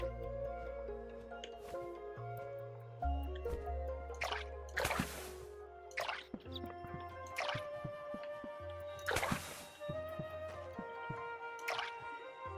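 Watering can pouring glimmer water in Core Keeper: a string of soft, separate drips and squishy splashes, each one short, over a quiet game music tone.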